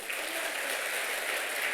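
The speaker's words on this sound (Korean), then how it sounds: "우리 한번 박수 한번 쳐줘요." A church congregation at an evening revival service claps in a steady, dense burst of applause that holds at an even level throughout, with only a faint voice in the background.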